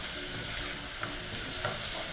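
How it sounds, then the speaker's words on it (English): Vegetables for minestrone soup sauté in oil in a pan, a close sizzle and crackle with a few quick stirring scrapes and spatters over the steady frying hiss. "I always like to saute my vegetables in advance"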